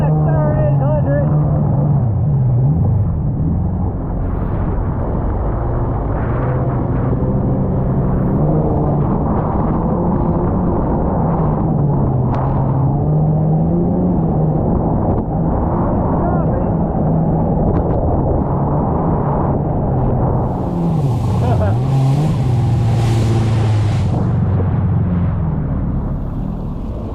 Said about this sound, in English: DJ's first ride on his SXI 800.